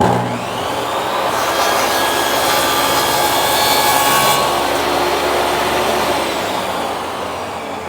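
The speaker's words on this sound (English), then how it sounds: "I also just decided I'm going to use the miter saw to cut the angles because it is a lot easier." Miter saw cutting angles in wood, a loud continuous whining buzz through the cut that swells in the middle and slowly fades, with no voices.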